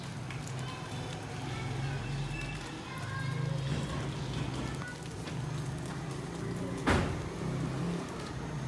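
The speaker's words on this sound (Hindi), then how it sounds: "बारिश भी आ गई।" Rain falls as a steady soft patter and hiss, with a low hum underneath and one sharper tap partway through.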